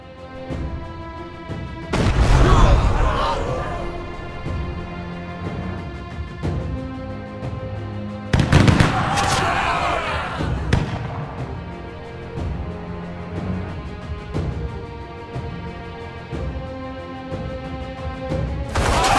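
Suppressing fire in the video game We. The Revolution: two heavy booming volleys with crashing impacts, loud and close, each decaying into a lingering rumble over a sustained musical drone, with no talk.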